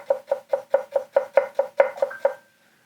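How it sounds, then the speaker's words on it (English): A Hatsukokoro Hikari petty knife chops a shallot into fine brunoise on a board, eleven quick, evenly spaced crisp knocks close up, then a brief faint ring and silence. "you can't really ask for much more from your petty knife doing a shallot"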